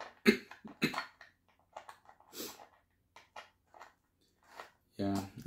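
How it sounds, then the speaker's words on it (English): A few sharp, breathy coughs from a person with allergies, scattered among soft speech, with a louder burst of talk near the end. "I've been coughing a lot lately"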